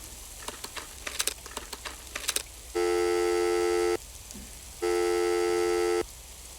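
Telephone sound effect from a video game: soft clicking patter gives way to two steady electronic ringing tones, each lasting about a second with a short gap between, clear and alone.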